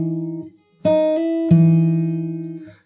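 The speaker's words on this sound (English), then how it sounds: "practice just the pull off part slowly like this" Slow fingerstyle guitar pull-offs played together with a bass note: a few plucked notes that ring and change pitch with gentle hammered transitions, close, clean and unaccompanied.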